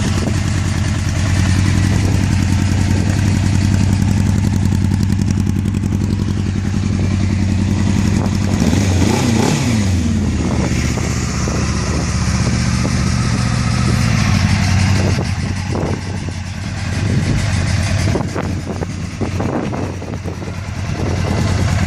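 A 1998 Suzuki GSX-R750 with a carbon exhaust idling close by, a steady loud mid-pitched engine drone with slight revving and mechanical clatter, carburettor not yet tuned after long storage.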